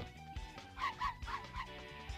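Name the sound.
dog barking in the video game Simpsons Wrestling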